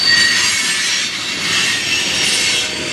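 A freight train rolling past nearby at night in Fostoria, Ohio, a loud steady rumble of wheels with high metallic squealing from the rails throughout.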